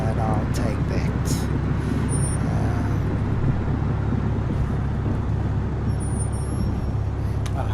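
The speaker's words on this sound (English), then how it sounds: "as I get over the runway, I cut the throttle" A Mooney Bravo in the FSX flight simulator, landing over the runway with the throttle cut, gives a steady broadband engine and wind rumble that holds evenly throughout the clip, with no talk over it.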